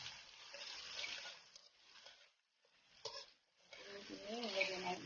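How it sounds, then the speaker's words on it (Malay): Garlic, shallots and a little ginger sauté in a pan, giving a soft, muffled sizzle with stirring scrapes. The sound drops out briefly midway, and a faint voice enters near the end. "kita akan tumiskan bawang putih, bawang merah, dan juga sedikit halia"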